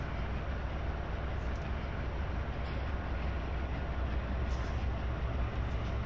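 A long freight train of roughly 50 to 70 cars rolls past, producing a steady, loud, unbroken low rumble and rattle of wagons on track with no pauses.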